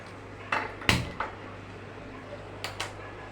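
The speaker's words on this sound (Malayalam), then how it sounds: "നമുക്ക് ചട്ടി ഒരു ഫ്രൈ പാന് നമുക്ക് അടുപ്പത്ത് വെച്ച്" A frying pan is set down on a kitchen stove with a few quiet, close metallic clanks and knocks, spaced apart over a faint steady hum.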